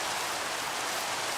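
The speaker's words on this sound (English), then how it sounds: "Got some rain." Steady rain falls in a video game, a constant broadband hiss with no breaks, with no voices over it.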